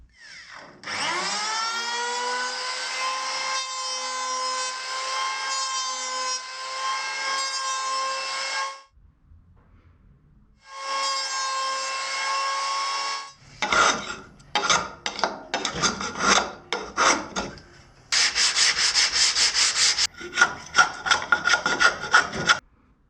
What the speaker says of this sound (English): I need to cut the bottom of this wood so it fits it